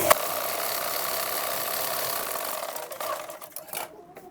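A sewing machine whirs continuously at close range while sewing a blouse with lining. The hum is fairly steady and fades toward the end.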